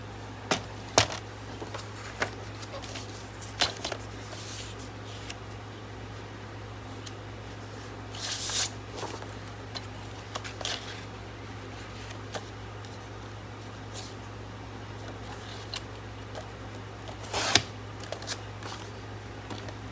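Scissors cut paper for a steampunk junk journal build, a few sparse crisp snips spread over a quiet stretch with a constant low hum behind them.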